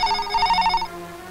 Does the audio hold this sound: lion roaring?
no